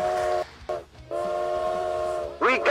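Train whistle for a stream alert, two sustained tonal blasts, a short one then a longer one, followed by a rising bent whistle note, loud and close over faint background noise.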